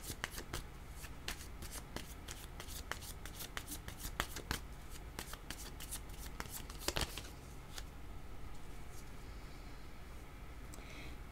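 Shuffling tarot cards to draw another one: a close, soft, rapid patter of card edges snapping and sliding over several seconds, easing into a quieter hiss near the end, with no one speaking.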